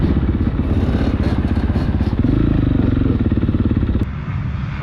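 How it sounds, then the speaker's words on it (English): Quads and pit bikes ride wheelies through a motocross pit, their engines buzzing loud and close in a steady continuous drone that eases slightly near the end. "just a lot of sketchy dudes on quads here. They're just like riding wheelies through the pit"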